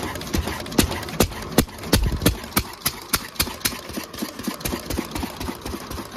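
A running engine near a pea field keeps up a steady, rhythmic thumping beat, loud and close, with regular pulses and no talk over it.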